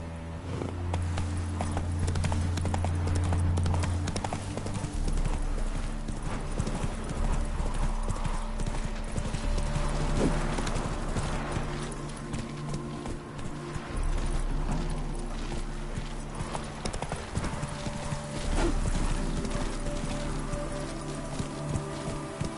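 Horse hooves clip-clop steadily at a run through The Witcher 3 on PS5 as a hound of the Wild Hunt pursues, loud and continuous over game music and ambience, with a voice briefly heard.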